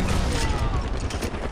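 Far Cry 4 artillery fire arrives as a dense, continuous barrage of rumbling blasts and crackling impacts, loud and close, filling the short moment without pause.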